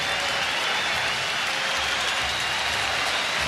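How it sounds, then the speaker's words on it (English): Baseball crowd at Wrigley Field during a tense extra-inning top of the 10th, a loud, dense and continuous roar of cheering and clapping, close and steady for the whole stretch with no voice above it. "And the crowd begins to rise here at Wrigley Field"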